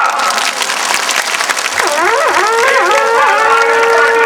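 Crowd clapping in welcome at a Bharatiya Janata Party gathering, loud sustained applause with a voice rising and wavering over it in the second half.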